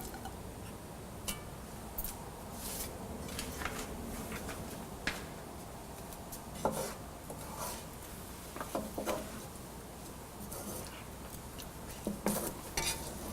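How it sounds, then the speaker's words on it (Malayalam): A spoon stirs shallow-fried fish pieces into boiling masala in a pan, giving soft scrapes and scattered metallic clinks against the cookware, fairly quiet and steady with no talk. "ഇതിലോട്ട് നമ്മൾ ഷാലോ ഫ്രൈ ചെയ്ത് വെച്ചിരിക്കുന്ന ഫിഷ് ഇട്ട് മിക്സ് ചെയ്യുക"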